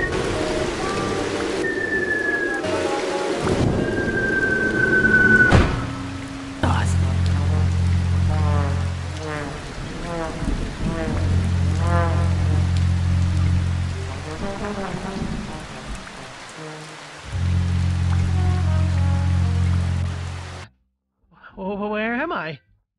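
Video game thunderstorm: steady heavy rain with low rumbling thunder swells and a siren-like alert tone, with a voice talking over much of it.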